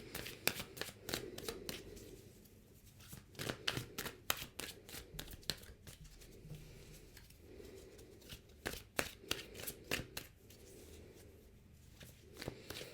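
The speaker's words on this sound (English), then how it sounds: "Cards are falling out" Tarot cards shuffled by hand in a rapid run of crisp riffling snaps, broken by short pauses, close and fairly quiet, with cards slipping loose and no talking.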